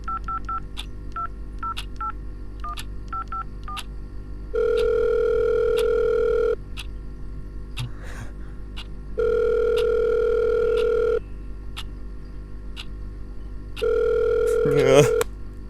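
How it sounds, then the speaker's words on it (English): A phone dials a contact with a rapid series of short keypad tones, then three long, evenly spaced ringback tones sound with quiet pauses between them, and a voice talks in the background throughout. "He selects Cassie Martin from his phone's contact list."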